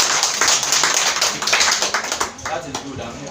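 A group at a church seminar on domestic violence claps for itself, several seconds of brisk hand claps that fade gradually, with voices mixed in.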